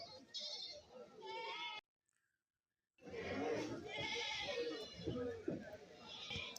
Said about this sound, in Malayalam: വലിയ മുട്ടനാടുകൾ ഇതായി ഭാഗത്ത് നിൽപ്പുണ്ട്